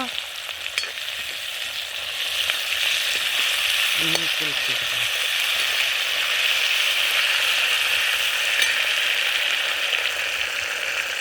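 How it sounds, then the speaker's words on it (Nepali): Steady, loud sizzling of onions frying in a hot pan, with a brief clink of a utensil stirring partway through. "मैले प्याज भुट्दैछु।"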